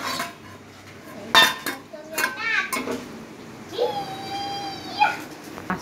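Cooked fish tipped out of a pan, with metal clanks and scraping clatter in short bursts, plus faint voices or tones in the background.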